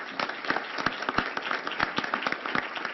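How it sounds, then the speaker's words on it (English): Sustained audience applause from a crowd at a community talk event, dense steady clapping with no voices over it. "please give them a round of applause"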